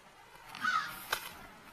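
An American crow caws once or twice, a short harsh call rising briefly above quiet outdoor ambience.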